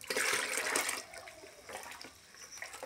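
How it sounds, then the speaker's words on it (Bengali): Medicine stirred into water in a mug gives a close, watery sloshing and swirling, loudest for the first second, then continuing more softly with occasional splashy bursts. No voices. "ভালোভাবে একটি মগ দিয়ে ভালোভাবে নেড়ে নেবেন, যাতে পানিতে সম্পূর্ণ ওষুধটি মিশে যায়"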